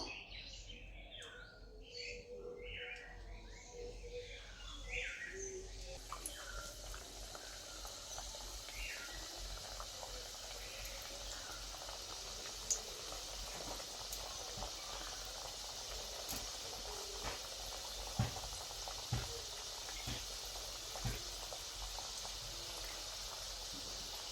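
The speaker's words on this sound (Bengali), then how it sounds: "তেলটাকে আমি হালকা গরম করে নিয়েছি এবার আমি এগুলোকে ভেজে নেবো" Gaja sweets fry in lightly heated white oil in a wok, giving a steady bubbling sizzle that fills the background, with bird chirps over the opening seconds and a few sharp clicks later on.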